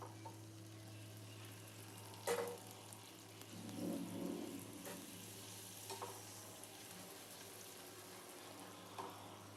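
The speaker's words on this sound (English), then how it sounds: "Then fry them." Puris frying in hot oil, a quiet steady sizzle with a few soft knocks and a brief bubbling swell, heard faintly alone.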